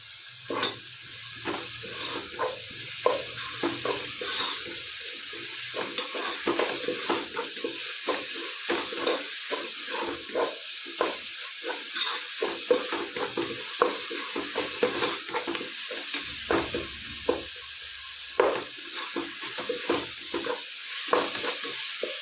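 Onions and green chillies sautéing in a pan for chicken curry, a continuous hiss of frying broken by frequent scraping stirs and soft clanks of the utensil, close and fairly loud.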